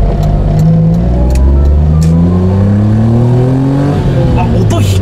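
A Honda Beat, just given an oil change, drives off with a loud, close engine revving up through the gears, the pitch climbing and dropping at each shift.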